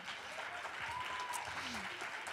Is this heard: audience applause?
yes